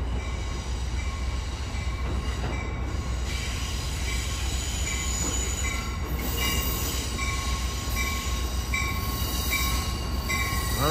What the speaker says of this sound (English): This train will divert over to the track to track number 2.